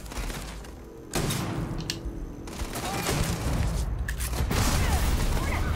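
Gunfire from a pump-action shotgun and other weapons in the video game Starfield, a run of loud, sharp shots and booms. The bursts come close together and repeat over a steady noisy background.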